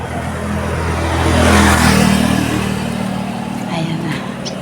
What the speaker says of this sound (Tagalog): Mga sasakyan.